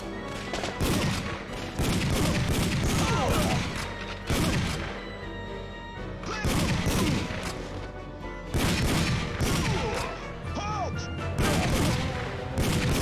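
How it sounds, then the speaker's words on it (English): Gunfire in a Namco Museum arcade shooting game as a casino gets shot up, with loud, dense bursts of shots and crashes coming in repeated waves and brief lulls between them, mixed with game music and effects. "now we're just shooting up a casino"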